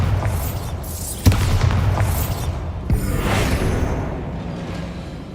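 Bombarda spell blasts in the video game Hogwarts Legacy: two sharp booming impacts a couple of seconds apart, each followed by rumbling debris and swooshing effects over a continuous game soundscape.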